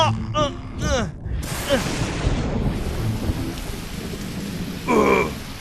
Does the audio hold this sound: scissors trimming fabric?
no